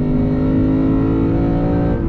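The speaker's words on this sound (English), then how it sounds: "Love that V8 sound." A 2021 Lexus RC F Fuji Speedway Edition's V8 roars loudly and steadily under full throttle on a track, its deep engine note climbing as it accelerates.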